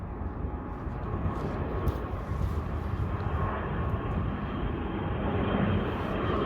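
Aer Lingus ATR turboprop airliner landing in cold weather, a broad low engine and airflow roar heard from a distance, steady and rumbling throughout with faint wind, no speech.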